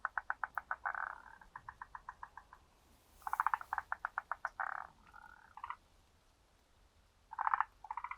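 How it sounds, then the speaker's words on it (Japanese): Frogs call from a garden pond, giving loud rapid rattling trains of croaks in several bursts with short pauses between them, close by and clear against a quiet background. "カエルが喜んで鳴いてますね。"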